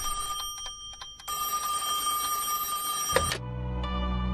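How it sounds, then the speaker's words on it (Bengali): A cartoon telephone rings with rapid, shrill electronic trills in several bursts, then cuts off sharply. A low hum and a faint tone follow. "কার ফোন?"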